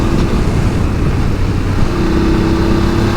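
A BMW F 850 GS motorcycle engine runs steadily on a winding road, giving a continuous, fairly loud drone and rumble with no break and no voices.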